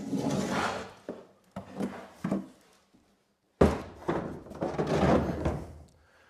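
A DECKED truck bed storage drawer slides open and shut, giving a few close wooden thunks and rubbing slides in separate bursts with short pauses between them.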